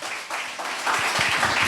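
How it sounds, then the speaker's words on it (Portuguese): A church congregation claps to welcome a preacher, a dense wash of many hands that swells and grows louder across the short stretch. "Vamos receber o nosso pregador com as palmas que louvam o Senhor Jesus"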